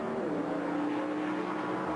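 NASCAR Cup Series race cars from 2003 roar past in a jam through tire smoke after a spin off turn two, a dense, continuous engine drone that holds loud and steady throughout.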